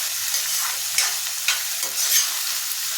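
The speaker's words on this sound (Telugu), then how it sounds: "ఇందులోనే ఉల్లిపాయలు, పచ్చిమిరపకాయలు వేపించుకుందాం." Three large onions with green chillies fry in a pan, a close, hissing sizzle broken by quick scraping strokes as the mixture is stirred.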